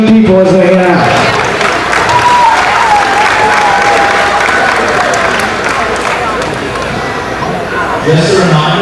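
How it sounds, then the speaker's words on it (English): An audience at a county fair event center applauds young showmanship competitors as they head out, with loud, sustained clapping and crowd murmur filling the space, and a voice briefly audible over it. "Let's applaud these young people as they head out."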